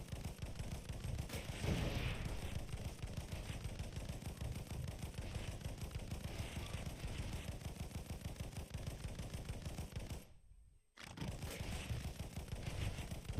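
Dense, continuous rapid gunfire in the tower defense bullet hell game CluckMech Oasis, loud and relentless with one brief silent gap near the end.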